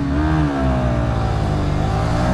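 A KTM Duke and a Honda CB125R launch from a standing start, their engines revving hard with climbing harmonic tones, loud and close without pause.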